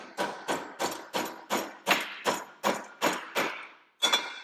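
Hammer striking soft pewter to fold it small: about ten sharp, evenly spaced blows in a steady rhythm, close and fairly loud, each ringing briefly, with a short pause before a final double strike.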